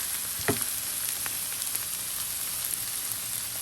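Tender spinach frying in a little oil in a pan, a steady close sizzle with faint crackles and a brief stir clatter near the start.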